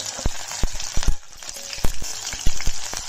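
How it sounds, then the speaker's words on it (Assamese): Onions and a bay leaf sizzle in hot oil under a steady crackle, broken by sharp, rhythmic knocks of a spatula against the pan as they are stirred. "পিয়াজ আগতে ভাজি লওঁ"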